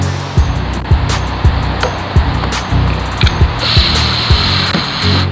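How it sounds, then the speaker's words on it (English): A cordless drill drives screws through a rear lip spat diffuser on a Hyundai Veloster, giving short repeated whirring bursts with ratcheting clicks, a steady mechanical hum underneath and a higher steady whine near the end. "Make sure to go halfway with the drill."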